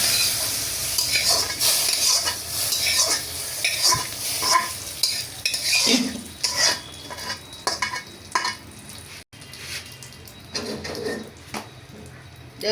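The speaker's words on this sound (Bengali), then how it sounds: "একটু নাড়াচাড়া করবো খিচুড়িটারে" Khichuri stirred in a pot with a spoon: repeated scraping and clinking strokes over a low sizzle, fairly close and loud, with no talking.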